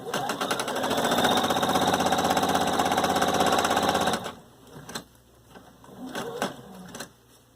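A sewing machine chain-pieces quilt pieces, feeding one straight after another: a steady, close, rapid mechanical whir for about four seconds, then it stops and only soft handling noises and faint movement follow.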